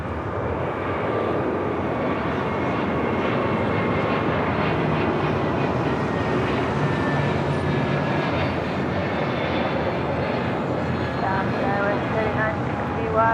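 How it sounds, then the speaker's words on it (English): A Delta Airbus A321neo departs runway 25 right at LAX, its engines a steady, loud rumbling roar with whining tonal layers that sweep slightly, continuous throughout. "we have a Delta A321 Neo as the next departure on 25 right"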